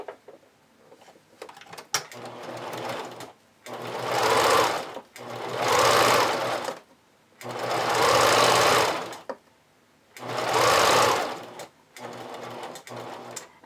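A sewing machine zigzag-stitches elastic onto a vintage-style bra in four loud, close bursts of rapid mechanical whirring, separated by short quiet pauses.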